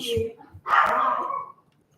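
A small, scrappy little dog about the size of a football gives a short bark followed by a longer whining yip, fairly close and clear, before falling quiet.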